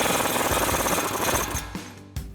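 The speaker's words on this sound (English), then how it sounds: "Next we can tighten down our axle nut and install our cotter pin." Axle nut on a Toyota Tacoma front CV axle tightened with a 41mm socket, likely on an impact tool: a loud continuous rapid hammering rattle for about a second and a half, then a few separate short impacts.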